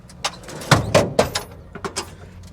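A heavy tool drawer in a 2014 Caseco service truck toolbox slides open with a series of rolling clunks and metallic knocks, close and moderately loud.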